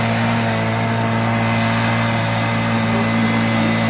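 A Kubota remote-controlled, four-wheel robotic lawn mower runs its engine, producing a loud, steady, even drone with a constant hum and no voices.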